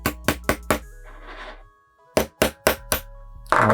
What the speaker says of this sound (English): all you need to do is just hammer it out